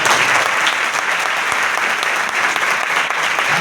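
An audience at an Odia Christian church festival claps together, a dense, loud, continuous burst of applause that carries steadily from start to finish with no talking over it.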